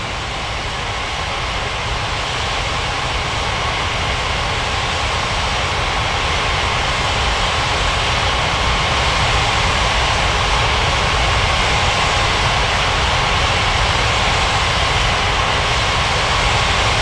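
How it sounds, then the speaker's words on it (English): An airliner takes off from runway 27 at Ngurah Rai Bali International Airport with a loud, steady jet engine roar that holds broad and strong throughout, with no voices. "Philippines 7603, cleared for takeoff runway 27"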